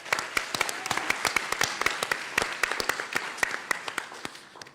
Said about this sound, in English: Please give Yousuf a huge round of applause